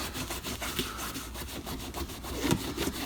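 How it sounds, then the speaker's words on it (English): Plastic Honda motorcycle parts being sanded by hand, a steady close-up scratchy rasp of repeated back-and-forth strokes with no voices. "you have to sand these quite well in these little areas."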